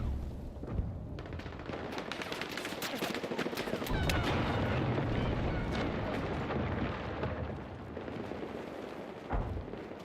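Rapid video game gunfire crackles in a dense battle, with bursts of shots and explosions rolling on continuously over ten seconds at a moderate distance.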